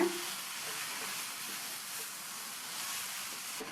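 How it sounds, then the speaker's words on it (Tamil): Ridge gourd sautés in a pan over a high flame, giving a steady, even sizzling hiss with a faint low rumble beneath, constant throughout without any voices. "ஹை ஃப்ளேம்லேயே வச்சு பக்கத்துலேயே இருந்து இந்த மாதிரி வதக்கி விட்டுக்கோங்க."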